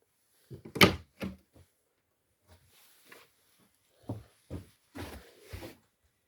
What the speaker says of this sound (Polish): Porządnie zamykane drzwi.